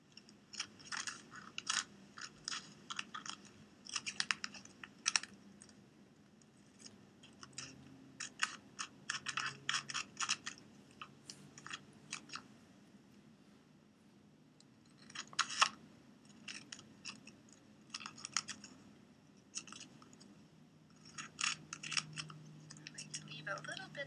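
Scissors snip around laminated cards in quick bursts of crisp cuts, pausing now and then, close and moderately loud, with faint murmuring in the background.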